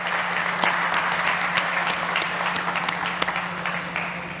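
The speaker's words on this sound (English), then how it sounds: "a huge round of applause, please, for Batijan Özkan from Syntonym." An audience at a startup pitch competition gives a steady round of applause, dense clapping with a few sharper individual claps standing out, close and sustained throughout.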